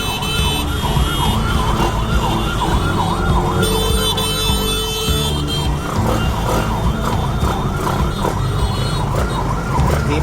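An ambulance siren wails in a steady rising-and-falling cycle on a Cebu, Philippines street, loud and close, over traffic rumble and a blaring horn partway through.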